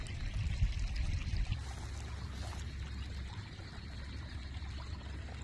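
Rainwater spills over the earthen embankment of a flooded rice paddy after heavy rain, a continuous close rushing pour that holds steady throughout with no voices.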